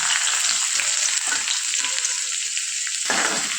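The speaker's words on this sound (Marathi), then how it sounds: "आता कांद्याला छान लाल कलर येईपर्यंत आपल्याला तेलामध्ये परतून घ्यायचा आहे" Finely chopped onion with garlic, red chilli, mustard seeds and cumin sautéing in oil in a pan for besan pitla, a loud, continuous close-up sizzle with scraping stirring strokes and no speech.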